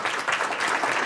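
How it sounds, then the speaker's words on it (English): An audience applauds after a presentation at a conference on ESPON targeted analyses, a short, even burst of clapping from a moderately sized crowd. "Applause."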